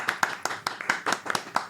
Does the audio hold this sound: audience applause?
yes